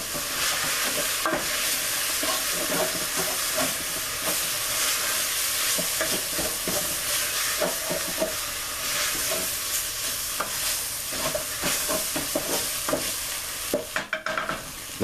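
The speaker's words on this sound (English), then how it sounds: "What you're going to add now is a little flour. And you're going to stir it in." Flour being stirred into vegetables cooking in a pot for sour cream chicken enchiladas, a steady frying sizzle under repeated scraping stirs that run close and continuous throughout.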